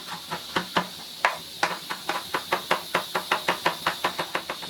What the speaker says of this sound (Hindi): अब इस पुदीने को भी हम बारीक बारीक काट लेंगे।